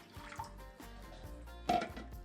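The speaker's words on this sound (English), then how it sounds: "next we're going to add our water. 2 cups of water" Water from a cup is poured into a cooking pot holding kombu kelp in a home kitchen, heard as quiet, intermittent splashes and trickles with one louder gush near the end.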